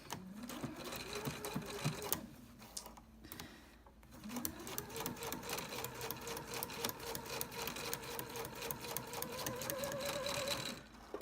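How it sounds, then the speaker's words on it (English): Sewing machine stitching a paper-pieced quilt block for a house-design quilt, running in steady bursts with a short pause around four seconds, close and clear with no talking. "So let's sew this first one together."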